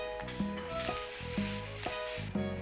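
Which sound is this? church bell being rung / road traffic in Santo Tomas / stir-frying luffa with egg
stir-frying luffa with egg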